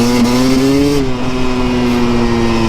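A dirt bike engine revs loud and close, its pitch climbing in the first second and then holding at a steady high drone. No one speaks.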